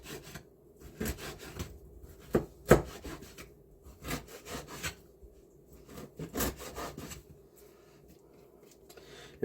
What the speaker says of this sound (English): I'm just cutting it into smaller bite size